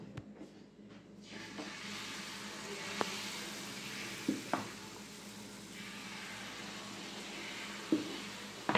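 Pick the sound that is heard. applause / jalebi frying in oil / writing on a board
jalebi frying in oil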